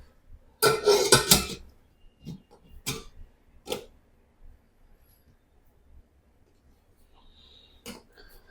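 A pressure cooker lid is fitted and closed in a home kitchen while rice is prepared, producing a loud burst of metallic clattering followed by scattered sharp clanks and taps, with no speech.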